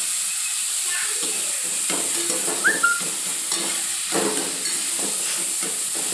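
Steady crackling sizzle of spices tempering in hot oil for amaranth greens, loud and close, with occasional stirring scrapes and no talking.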